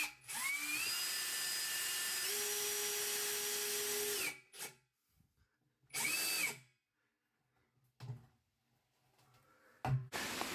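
Cordless power drill driving roofing screws, one long steady whine that rises in pitch then stops, followed by several short bursts of the drill separated by near silence and faint handling noises.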